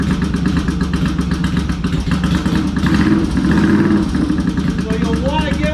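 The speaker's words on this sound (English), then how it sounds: "I'm going to start this bike." Motorcycle engine running with a stuck clutch, a loud close chugging rumble with clattering rhythm that revs up slightly midway, with a voice speaking over it.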